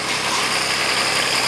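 A tractor engine runs with a steady, unbroken buzzing drone at close range, even in loudness throughout and with no talking over it.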